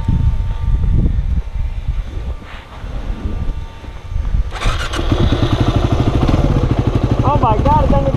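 A motorcycle engine fires up partway through and keeps running with a loud, close, rapid throbbing, after a stretch of wind and handling noise; people talk over it.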